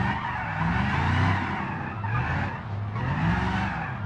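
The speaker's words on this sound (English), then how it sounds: "Oh, we got to skid out." Car tires skidding and squealing in the BeamNG driving game, a loud sustained screech with engine noise running continuously for several seconds, rising and falling in intensity.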